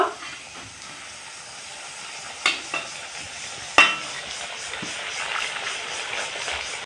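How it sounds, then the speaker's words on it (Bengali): Sweet pumpkin chops frying in hot oil, a soft continuous hiss and sizzle with a few sharp clinks of a utensil turning them, fairly quiet and without talk. "এখন আমি এই উল্টো পাল্টা করে ভেজে নিব"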